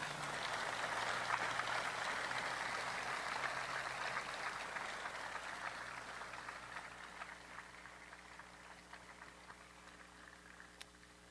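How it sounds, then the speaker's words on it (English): A large outdoor crowd at the Pearl Harbor Remembrance ceremony applauds WWII veterans with a broad, soft wash of clapping that slowly thins out. A steady low hum runs underneath. "Can we please give them a round of applause?"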